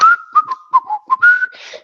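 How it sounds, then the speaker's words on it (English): A person whistles a short melodic tune alone, a clear pure tone broken into several quick notes and a longer held note, close and fairly loud. "That's to whistle."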